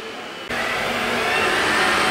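A Xiaomi Roborock 2 robot vacuum cleaner switches on abruptly and then runs as a loud, steady whirring hum close by.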